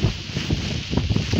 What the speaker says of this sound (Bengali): প্রচন্ড প্রচন্ড বাতাস।